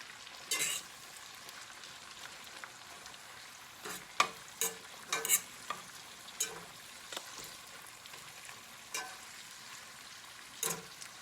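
Dandelion greens being tossed and cooked down in a pan: quiet background sizzle broken by a series of brief scraping, tossing clatters spaced irregularly throughout, with no voices.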